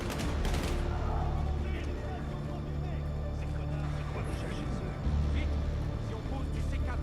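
Rapid gunfire bursts and crackling shots in the Battlefield 6 campaign, dense and continuous under a busy battle mix, with a voice speaking over parts of it.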